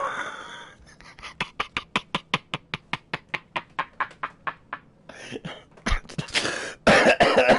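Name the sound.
character coughing twice in The Outer Worlds video game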